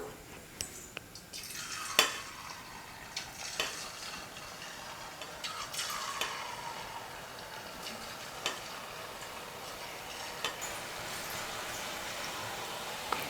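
Rice flour dough fries in hot oil, giving a soft continuous sizzle with scattered faint ticks and light utensil taps, heard close and quiet with no talking.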